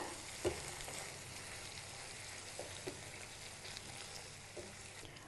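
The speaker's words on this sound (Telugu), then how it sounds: "ముక్కల్ని వేసుకొని బాగా కలుపుకోవాలి ఆయిల్ అంతా ముక్కలకు పట్టేలాగా" Brinjal and broad bean pieces tossed in oil in a pan for a curry, a quiet continuous sizzle with a few soft stirring knocks, close and without voices.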